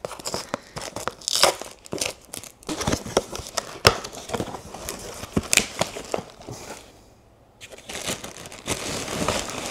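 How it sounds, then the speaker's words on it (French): Parcel packaging torn open by hand, a close series of sharp rips and crinkling crunches with a brief lull before the tearing resumes. "J'ai pas envie d'aller chercher un outil de coupe, alors j'utilise mes doigts."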